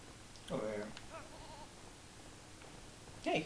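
A sheep bleating in the Lego Lord of the Rings video game, two short wavering bleats, one early and one near the end, over quiet background.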